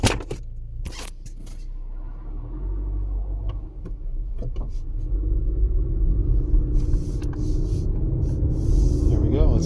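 A 2018 Honda Accord with the 1.5L turbo, stalling, running rich and accelerating poorly, drones low and steady from inside the cabin on a drive, building slightly louder toward the end, with a few clicks early on.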